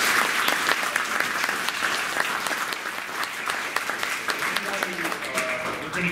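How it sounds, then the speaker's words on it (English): A conference audience applauds at the end of a panel discussion on Russia and Western democracy, giving a steady, moderately loud round of clapping with a faint voice or murmur underneath. "I'd like to offer a warm round of applause for what's been an excellent."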